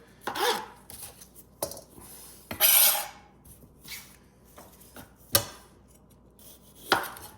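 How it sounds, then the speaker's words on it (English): Knife slicing down the sides of a green pepper on a cutting board for fajitas, sharp crisp cuts and board knocks at irregular intervals, close and clear with no talking. "Cut down on the sides. I'm kind of cutting down like this."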